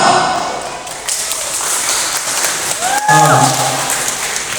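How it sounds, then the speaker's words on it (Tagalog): A crowd applauds loudly at an evening show's applause contest, steady clapping with thumps and a bright whoop near the end, and a host talks briefly over it. "kung sino yung mas maraming mas malakas ang palakpak, yun yung mananalo"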